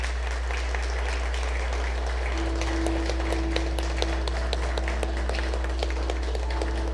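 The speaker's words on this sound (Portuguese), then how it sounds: "Vamos aplaudir Jesus bem forte" A church congregation applauds together, a dense steady patter of many hands that holds level throughout, with a sustained tone entering partway and no clear speech.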